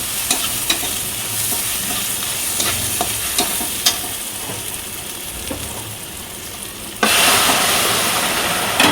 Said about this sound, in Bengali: ভাজা ভাজা হয়ে গেছে, এবার এটা ফোড়নে দিয়ে দেবো।